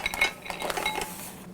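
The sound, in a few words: mussels dumped into a pot of boiling broth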